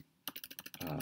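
A quick burst of about seven crisp keystrokes on a computer keyboard, evenly spaced and close, followed by a steady hiss.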